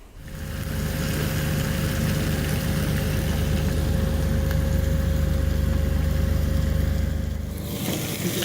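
The 2021 Ford F-150 PowerBoost hybrid's engine starts up and runs at a steady, loud idle with a low droning rumble, then cuts off near the end.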